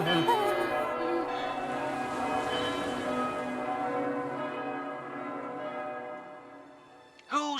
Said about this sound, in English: Guess we better ring the bell.